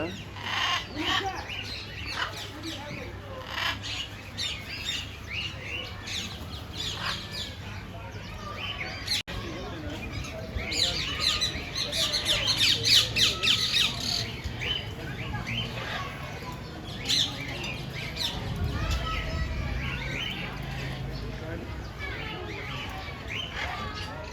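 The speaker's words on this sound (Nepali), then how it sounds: "यसलाई चाहिँ मकाउ चरा भन्दो रहेछ।" Harsh macaw squawks and other bird calls ring out amid a busy outdoor crowd at a zoo, with people talking and children's voices throughout.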